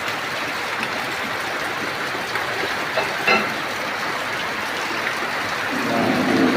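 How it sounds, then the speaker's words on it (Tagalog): Heavy rain pours down in a dense, steady hiss, loud and continuous, with a few faint knocks underneath, falling in the Philippines where harvested rice is kept. "Ulan."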